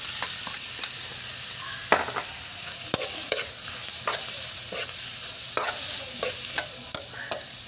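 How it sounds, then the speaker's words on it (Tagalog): Shrimp and squid stir-fry in a pan for seafood chami, with a steady sizzle broken by frequent sharp clatters and scrapes of stirring. "Lagyan na po natin ang ating hipon. Sunod lang agad natin ang pusit."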